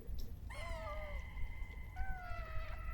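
The player-controlled cat in the video game Stray meows twice, each a clear wavering cry, with a second quieter meow after a short pause, over a continuous low game soundscape.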